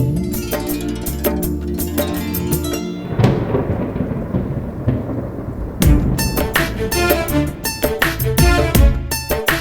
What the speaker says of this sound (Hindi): भयानक बिजली भारी बारिश होती है जून महीने में।